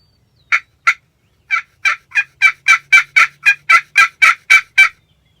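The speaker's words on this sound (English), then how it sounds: "Just had a turkey gobble pretty close." A wild turkey gobbles close by in a Kentucky field, a rapid series of about fifteen sharp rattling notes building after two short opening calls, loud against near silence.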